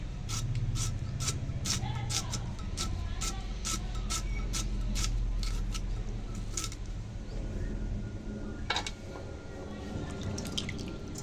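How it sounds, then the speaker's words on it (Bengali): A knife chops onions on a board in a home kitchen, a quick, regular series of sharp taps that pauses briefly before resuming, close and clear. "এখন পেঁয়াজ কুটাচ্ছি"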